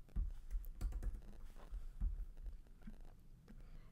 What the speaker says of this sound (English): I'm just going to hit my caps lock and type in mom.